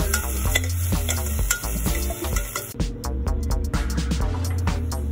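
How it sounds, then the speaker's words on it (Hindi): Tomatoes and spices frying in oil in a pan while being stirred, a steady loud sizzle broken by repeated scraping and clinking of the spoon against the pan. "अब मैं इसको अच्छे से ऑयल रिलीज होने तक फ्राई कर लूँगी"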